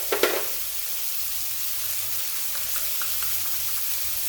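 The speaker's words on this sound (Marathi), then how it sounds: "एक छोटासा चमचा जिरे टाकत आहोत आपण. एक छोटासा चमचा आपण धने टाकत आहोत." Cumin and coriander seeds hit hot oil in a pan that already holds ginger-garlic paste, for a soybean chunks curry. A brief clatter of the seeds dropping in leads into a steady, close, hissing sizzle.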